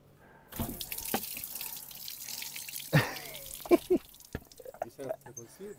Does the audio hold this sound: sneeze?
no